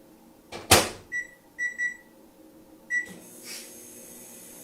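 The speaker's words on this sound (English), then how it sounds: "So I'm gonna stick these in the microwave for about a minute on high" A microwave oven heating chocolate chips: a sharp door clunk, then a run of electronic beeps from the keypad, one more beep, and the soft hum of the oven starting up.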